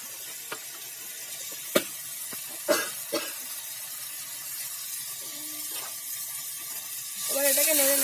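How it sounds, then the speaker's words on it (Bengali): Chicken pieces fry in a pan for chicken curry with potatoes, a soft continuous sizzle with a few sharp clinks and scrapes of stirring, and a louder hiss rising at the end. "এখানে মাংসটা ফ্রাই হচ্ছে"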